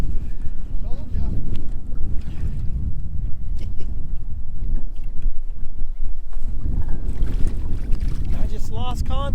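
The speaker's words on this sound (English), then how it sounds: "the wind's blowing so hard" Hard wind blowing across Lake Lanier while bass fishing from a boat, a continuous loud low rumble of gusts on the microphone, with brief faint voices near the end.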